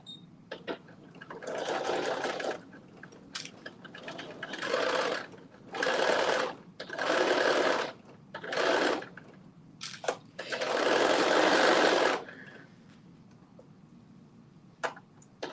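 A sewing machine stitches a garment sleeve in a series of short close runs, roughly six bursts of a second or two each, the last one longer, with quiet handling pauses between.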